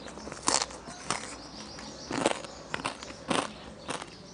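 Crispy pork belly being bitten, a few crunchy bites with chewing crackle spaced through a quiet stretch, close and fairly soft, with no talk.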